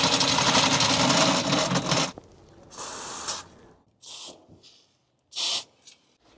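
WD-40 aerosol sprayed onto caravan stabilizers: one long hissing spray, then several shorter separate bursts with brief pauses between them, close and loud.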